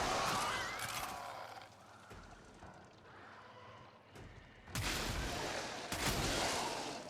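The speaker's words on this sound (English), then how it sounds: "How did you not die from that explosion?" Explosions and gunfire in the Warframe video game, with sharp bursts around the midpoint and heavier, louder blasts toward the end over busy game noise.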